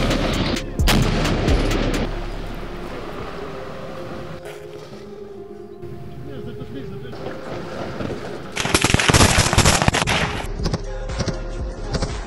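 Artillery fire in a battle near Bakhmut, Ukraine: heavy booms and gunfire rumble across a noisy battlefield, with loud blasts near the start and again toward the end, while people talk over it.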